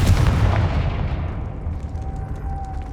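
A Confringo fire-blast spell explodes in the Hogwarts Legacy video game as one loud booming blast, and its rumble slowly fades out.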